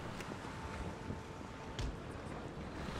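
Wind and sea surround a sailing ship in the Empire Total War strategy game, a steady broadband rush of gusting air and surging water with faint creaks, constant and enveloping with no talking.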